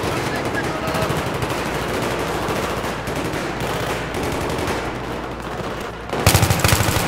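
Sustained automatic gunfire from a Battlefield 3 campaign mission rattles in rapid bursts throughout, with a louder, closer volley near the end.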